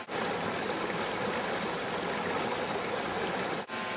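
Water runs steadily as metal electrolysis plates for a stainless steel HHO cell are rinsed in distilled water, a continuous close splashing flow with a brief break near the end.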